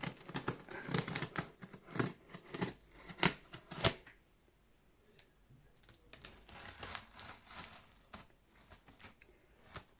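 Scissors snipping and tearing into the packaging of a portable power station battery, a rapid run of sharp close clicks and crinkles that thins into quieter, scattered rustling.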